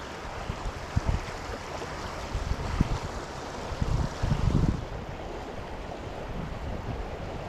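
Fast-running stream water at a trout fishing spot, a steady broadband rush with some low buffeting from wind on the microphone and no talking.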